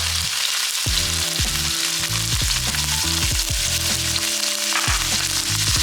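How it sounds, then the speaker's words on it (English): Shrimp hit hot oil in a pan for fried rice, giving a loud, continuous sizzle and crackle that runs the whole time, with tuneful background music underneath and no talking. "we're gonna put a little bit of oil in this pan because we're about to cook up the shrimp"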